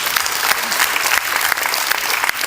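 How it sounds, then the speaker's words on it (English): Enthusiastic applause from a conference audience at an entrepreneur summit, a dense, steady wash of many hands clapping close by and filling the whole moment without a break. "Give yourself a massive round of applause."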